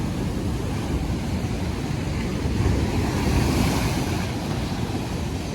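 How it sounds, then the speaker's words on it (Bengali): Rough sea waves crash and surge continuously against the rocky shore at Passetto in Ancona, a loud, close roar of surf mixed with wind buffeting the microphone, with no voices. "আজকে অনেক ঢেউ এখানে।"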